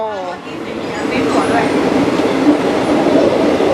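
Loud steady rumble and rattle of a moving Thai passenger train carriage heard from inside, with a voice speaking briefly at the start.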